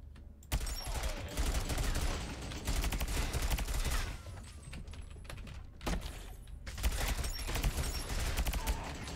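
Automated sentry guns in a first-person tower-defense shooter fire in rapid rattling bursts, loud and clustered with short pauses between volleys, with keyboard-like clicking mixed in.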